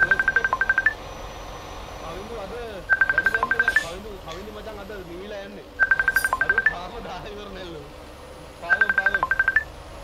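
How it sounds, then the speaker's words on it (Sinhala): A phone rings in bursts of rapid trilling tones, each lasting about a second and repeating every few seconds, over steady engine rumble from a Euro Truck Simulator 2 multiplayer convoy, with someone talking throughout. "කෝල් එකක් එනව නේද යාළුවේ?"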